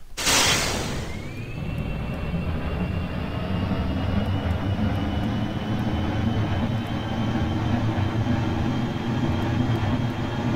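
Rocket engines roar at liftoff of a space shuttle in a space flight video game, a steady broad loud rumble that starts abruptly and holds with a faint rising whine, no voice over it.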